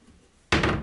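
Indoors in a master bedroom, a closet door swings open with a sudden, close thump and rush of sound after a brief quiet moment.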